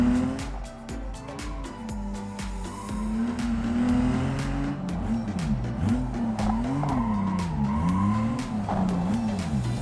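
An Ibishu Claira with aftermarket wheels and flared arches drifting in BeamNG.drive, engine droning and wavering in pitch while tires squeal and skid continuously, loud and close with no talking.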